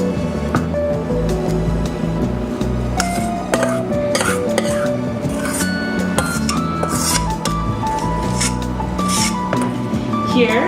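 Vegan shepherd's pie filling scooped and spooned into a baking pan, giving close, repeated scraping, clinking and soft squelching sounds, with background music or voice running underneath.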